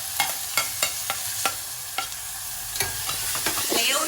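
Onions and tomatoes sauté in a pan with dried chillies for sambar, giving a steady close sizzle broken by regular scraping stirs of a spoon, about two or three per second.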